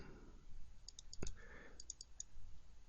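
A computer mouse double-clicking, a few quick faint clicks clustered near the middle against quiet room tone, with no talk.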